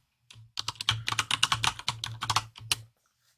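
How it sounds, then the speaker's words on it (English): Rapid typing on a computer keyboard, a close, dense run of key clicks lasting a couple of seconds before stopping. "Can't type."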